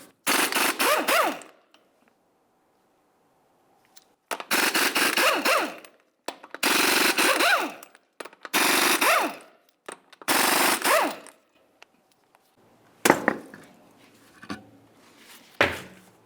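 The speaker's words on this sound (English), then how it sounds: "continue on to removing each of your 5 21mm lug nuts and then the wheel" Impact wrench zipping off the five 21mm lug nuts on a front wheel of a 1998-2002 Lincoln Navigator during a brake job, in five loud bursts of a second or so each with pauses, followed by clanks.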